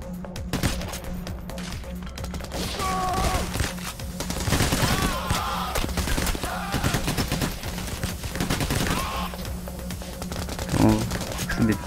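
Gunfire rattles through Payday: The Heist in dense, uneven bursts and scattered single shots. Someone talks now and then over the shooting.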